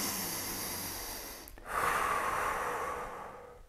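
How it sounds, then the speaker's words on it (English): A person in a yoga workout takes a deep breath, a long airy inhale followed by a louder, drawn-out exhale, close to the microphone with no talking. "let's go for a few deep breaths."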